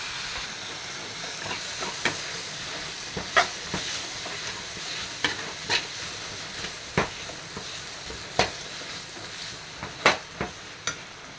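Egg and tomato frying in a pan for egg rice, a steady hiss of sizzling under repeated sharp scraping clicks as a spatula stirs the mixture every second or so.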